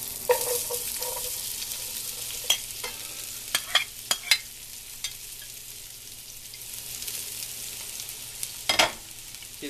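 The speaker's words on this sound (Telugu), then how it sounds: "కొంచెం ఫ్రై అయ్యేంత వరకు ఇలా కలుపుతూ నూనెలో వేయించాలి" Sliced onions and cumin seeds fry in oil for a cauliflower curry, a soft continuous sizzle punctuated by repeated sharp scrapes and clatters as a spoon stirs the pan.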